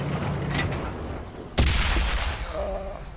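STA-1 Tier VIII Japanese medium tank cannon firing in World of Tanks on Xbox One, a single loud boom midway followed by a decaying rumble, over quieter game ambience.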